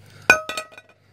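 A foil-wrapped Cadbury chocolate Santa dropped onto a plate makes one sharp clink, then two quieter bounces and a few faint rattles as it settles.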